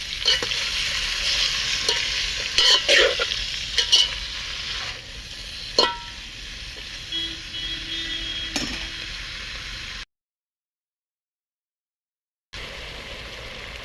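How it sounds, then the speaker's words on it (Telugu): Broad beans and chopped potatoes are stirred in a hot pan for a curry, a spoon scraping and clacking against the metal over a steady frying sizzle that thins out before a brief silence. "ఇవైతే ఇందులో వేసేస్తాం ఈ మొత్తం ఒకసారి ఇలా కలిపి"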